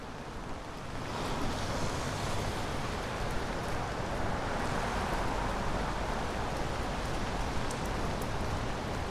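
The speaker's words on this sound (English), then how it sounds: "when it is raining like this" Heavy rain pours onto a city street at Long Island City's Court Square in New York, a dense, steady roar that swells after the first second and holds without any talking.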